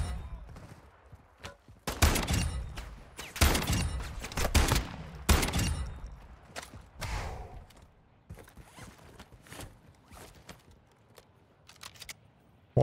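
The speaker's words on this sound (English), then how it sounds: "this shotgun is really, really good" Shotgun blasts in an online first-person shooter while farming souls against bots, a rapid run of loud booming shots early on that thins into sparser, quieter reports, with faint mechanical clicks between.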